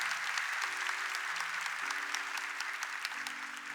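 A congregation applauding at Catholic Mass, a steady wash of many hands clapping at moderate distance, with a faint sustained organ-like tone underneath.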